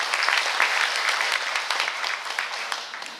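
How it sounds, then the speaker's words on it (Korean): Audience clapping at a formal meeting after two people are invited onto the stage, brisk applause with distinct individual claps that gradually thins and fades toward the end. "여러분 큰 박수 부탁드립니다."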